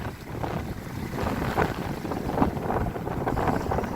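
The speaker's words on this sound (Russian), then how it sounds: "Сильный ветер, волны." Strong wind buffets the microphone while waves wash and slap nearby on a stormy fishing outing, a loud, gusting roar that rises and falls with no talking.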